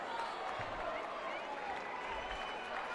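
A rugby sevens crowd at Central Park, Wigan, in 1990 cheers and applauds a try, a steady distant roar with a commentator talking over it.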